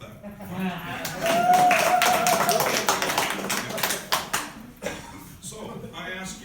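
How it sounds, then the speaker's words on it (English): A crowd at a public political speech breaks into scattered, uneven clapping that swells and then thins out over several seconds, mixed with a few voices and a faint tone. "Go ahead, you clap."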